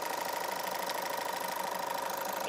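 A diesel engine fitted with a DPF, showing excessive differential pressure, idles in a steady, even mechanical thrum, close and continuous, with no voices.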